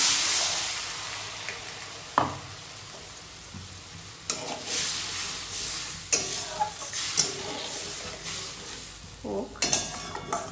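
Spice paste of ginger and chili with turmeric, cumin powder and salt frying in a pan, a steady close sizzle broken by occasional scrapes and knocks of a stirring spoon.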